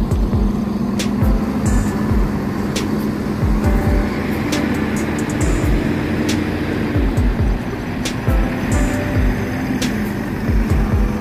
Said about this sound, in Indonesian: Nah, Tunggal Dara yang merah ya, ini mulai berangkat dan berbarengan dengan Tunggal Dara Putra.